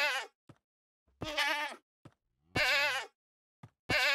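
A Minecraft mob's hurt sound plays as four short, strained bleating cries separated by silences, clear and isolated.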